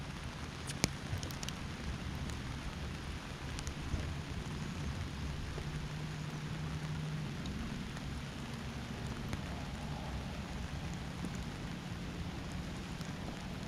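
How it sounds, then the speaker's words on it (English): Steady rain shower falling on water during a crappie fishing trip with crankbaits, a continuous soft hiss at even level throughout with a faint low hum underneath and no talk. "Right in the rain shower."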